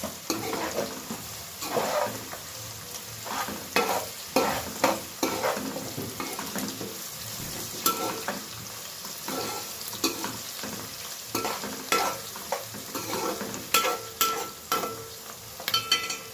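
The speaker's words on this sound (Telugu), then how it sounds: "నెక్స్ట్ కరివేపాకు, ఇది మంచిగా ఫ్రై కావాలి." Curry leaves fry in hot oil for a green chicken curry, a steady sizzle broken by frequent scraping and clinking stirs of a spoon against the pan, close and without talking.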